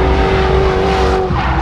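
A race car engine drones steadily at close range at an airfield speed festival, a sustained mechanical hum with tire noise, running continuously without a clear pass-by.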